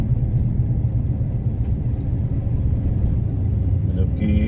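Road traffic rumbles through a large tunnel in Auckland, a steady loud low engine drone from passing cars with a brief brighter hiss near the end.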